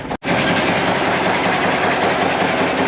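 A Kenworth K100 truck's Cummins diesel engine idling after a cold start, a steady, loud, close chugging rumble with a rhythmic knock that runs without a break after a brief dropout at the start.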